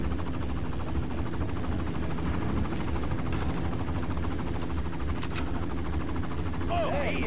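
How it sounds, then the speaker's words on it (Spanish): A helicopter's steady rotor drone hums throughout a Far Cry game scene, constant and fairly loud, with faint bursts of gunfire and someone talking over it. "Listo, ya con eso llamamos la atención del helicóptero."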